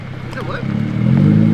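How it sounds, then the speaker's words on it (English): A car approaching on a street at a nighttime drift session with IS300s, its engine hum building steadily louder from near to closer, with people talking excitedly over it. "There's a car coming."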